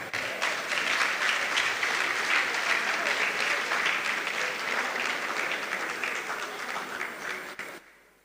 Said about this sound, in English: Can we give the Vice Chancellor another round of applause?